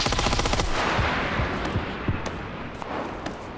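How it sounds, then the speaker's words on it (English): Gunfire in a PUBG match: dense rapid automatic bursts at first, then scattered single distant shots and echoing cracks, loud and continuous, with no talking over it. "somebody else is shooting me from over there"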